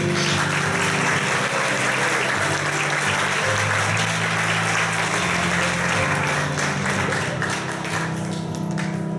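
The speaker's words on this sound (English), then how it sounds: "with your applause, please welcome the presenters back to the stage" A theater audience at a live musical show in Fuquay Varina, North Carolina, applauds steadily and loudly for about nine seconds, a dense wash of clapping that never drops out, with a low hum beneath it.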